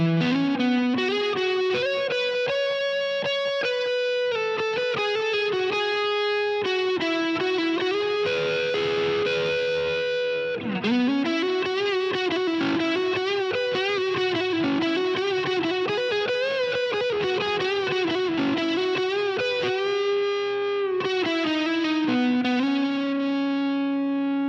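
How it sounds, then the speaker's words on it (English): Electric guitar played through the Telecaster's neck pickup with distortion and overdrive, giving thick, sustained lead lines with bends, steady and loud throughout with no talking. "this neck pickup can handle distortion and overdrive so well"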